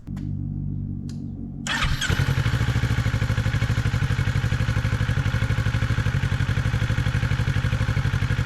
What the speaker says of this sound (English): turn on the bike, let it run for a little bit, check for any kind of leaks